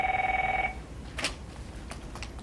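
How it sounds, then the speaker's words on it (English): A telephone bell rings with a steady trilling tone for under a second, then stops, leaving faint background noise and a few soft clicks. "It's the sound of the phone ringing."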